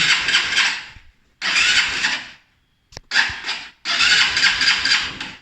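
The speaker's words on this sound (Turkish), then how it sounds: "Motorun sahibinden ilk marş denemesi." A Honda CBF 200 motorcycle on its first start attempt gives four loud bursts of starter cranking, each about a second long, separated by short pauses, with no steady running between them.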